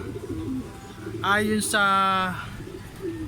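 Pigeons coo at a loft landing board while the owner waits for racing birds to come home; a voice talks over the soft, low calls.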